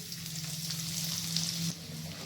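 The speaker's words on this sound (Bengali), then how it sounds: "এরপর আমি মাছ ভাজার তেলে দিয়ে দিচ্ছি 1/2 চামচ কালো জিরে আর থেতো করে রাখা আদা কুচি।" Black cumin and crushed chopped ginger fry in oil left over from frying fish. A soft, even sizzle hisses steadily from close by, with a brief dip near the end.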